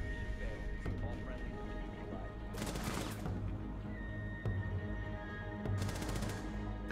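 Gunfire in Tom Clancy's Rainbow Six Siege: two rapid automatic bursts of a no-recoil rifle cracking out over a steady hum and scattered single shots, loud and close, with players talking in the background.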